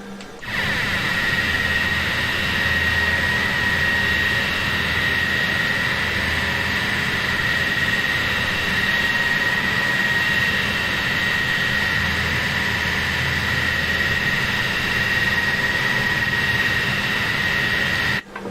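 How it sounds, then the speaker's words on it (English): A NATO E-3 Sentry slowly taxiing in Microsoft Flight Simulator 2020, its jet engines giving a loud, steady whine with a sustained high tone over a low rumble, unchanging throughout with no voices. "We are slowly taxiing."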